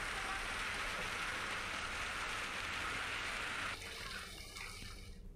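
Steady rain falls after a strong windstorm, a dense continuous hiss of drops on surfaces that holds evenly throughout, then shifts slightly in texture near the end with no voices present.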